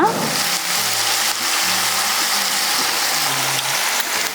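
An egg fries in a pan with browned onions, a loud, steady, close hiss of sizzling oil that continues without a break and with no voices.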